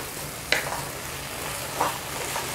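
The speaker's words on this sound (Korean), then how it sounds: "무말랭이가 이 물이 좀 충분히 볶아져서 스며들 때까지 잘 볶아주세요." Dried radish strips being stir-fried in a pan: a steady sizzling hiss with a couple of soft scraping strokes from the spatula, fairly quiet and close, with no talking.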